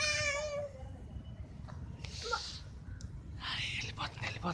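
A cat meows at the start, a clear rising cry, followed by softer whispery mews and hissy breaths. People talk quietly in the background.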